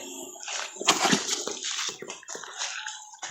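Water splashes and sloshes in uneven bursts while cucumber plants are watered in a dry-season garden, close and moderately loud with brief pauses between pours.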